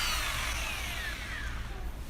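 A concrete hammer drill being tested in plain drill mode after repair, giving a steady, loud continuous whir that holds for the whole stretch, with no voices over it.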